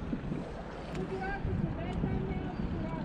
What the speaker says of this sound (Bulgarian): тая нарочно така мина хубаво да разгони рибата с този мотор